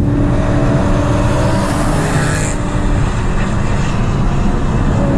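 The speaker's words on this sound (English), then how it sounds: "There's bare M3's about right now, making hell of V8 noises." Several BMW E9X M3s with V8 engines cruising together on the road, a loud, dense, continuous engine roar with steady rumble and rising revs, close by and with no talking.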